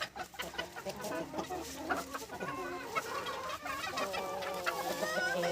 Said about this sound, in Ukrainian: А курка не дуже так хоче заспокоюватися.